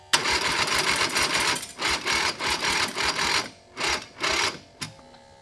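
Turbo 670 V-twin engine cranking over without catching, a fast rattling whir in repeated bursts broken by short gaps, near and loud, with no voices.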